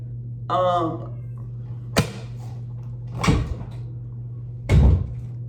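A cat gives a drawn-out meow at a door, followed by a few sharp knocks and clatters, like a door or cupboard opening and closing, over a steady low hum.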